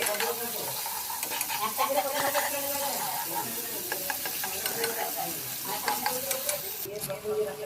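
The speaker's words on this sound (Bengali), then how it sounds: "সময় নিয়ে মশলা কষাতে হবে। একটা টমেটো কুচিয়ে রেখেছিলাম," Spice paste and chopped tomato fry in a pan for a fish curry, a steady sizzle with scraping stir strokes throughout, while a voice talks over the cooking.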